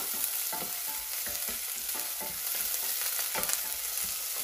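Garlic sizzles in a pan for ginisang mongo, giving a steady, fairly loud frying hiss with regular scraping and clinking strokes of a spoon stirring through it.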